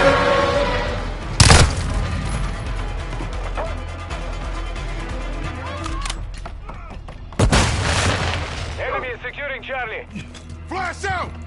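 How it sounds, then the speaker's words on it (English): Grenade blasts in a first-person shooter video game, two sharp loud explosions about six seconds apart over mechanical game clatter and gunfire, with voiced game callouts and talking throughout. "Throw it, blast grenade!"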